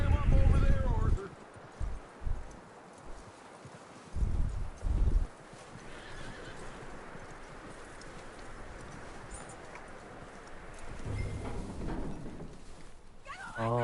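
Hoofbeats clop along beneath steady talking in the video game Red Dead Redemption, with a few louder thumps early on and a constant background rustle.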